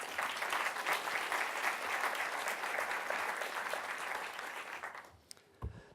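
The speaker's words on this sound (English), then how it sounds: "Please give them a round of applause." A forum audience applauds a list of not-for-profit education partners with a sustained, dense round of clapping that fades out near the end, leaving a brief thump and near-quiet.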